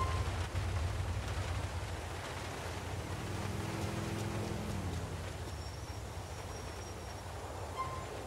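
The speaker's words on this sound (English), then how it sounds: "it's raining and I can't even see properly" Steady rain falling in the video game Grand Theft Auto IV, a continuous broadband hiss at a constant level, with a low rumble swelling in the middle and no speech.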